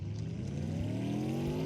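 A synthetic car engine in a Unity video game hums steadily and rises in pitch as it accelerates forward, a smooth electronic drone with no voices.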